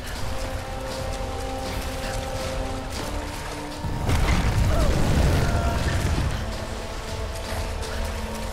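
An explosion in the remade Tomb Raider video game: a deep, rumbling blast swells midway through over a steady droning game ambience, then slowly fades back.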